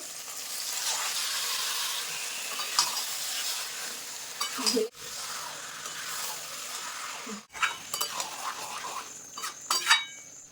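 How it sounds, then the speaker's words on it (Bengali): Marinated mutton poured over fried spice paste in a pot, a steady close sizzle broken by two sharp clattering pours and stirring knocks of a spoon against metal, with no one talking. "এখন এই মাংসটা আমি ঢেলে দেবো এই মশলার উপর"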